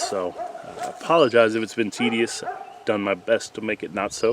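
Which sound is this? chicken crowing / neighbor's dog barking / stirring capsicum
neighbor's dog barking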